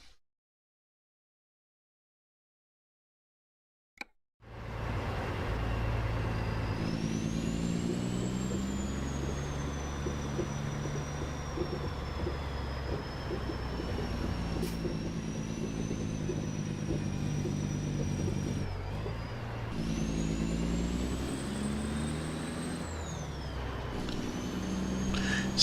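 Freightliner truck engine in American Truck Simulator, a steady low diesel drone with layered harmonics that holds for about twenty seconds after brief silence, with slight pitch shifts as it runs.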